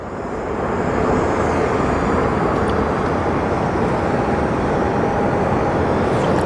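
An Air Canada Boeing Dreamliner airliner on final approach, a loud, steady broadband jet roar with a faint tonal whine, sustained throughout with no talk.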